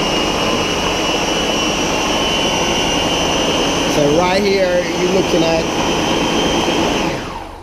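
A blender whirs loudly and steadily as it purées fruit soaked in wine for a Jamaican fruit cake, the motor pitch wavering as the mix churns, then winding down at the end while someone talks over it.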